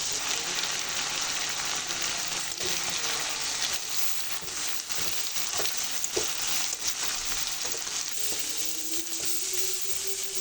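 Loitta dried fish frying with a paste of ginger, garlic, onion and dried chili plus turmeric, a steady near sizzle with occasional stirring clicks throughout.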